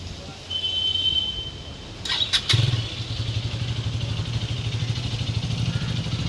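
A new-model motorcycle starts after a few sharp mechanical clicks, settling into a steady, close, throbbing idle that rumbles on to the end.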